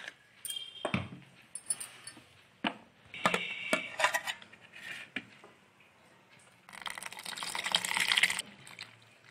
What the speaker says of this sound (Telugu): నేను కూల్ వాటర్ వేస్తున్నాను,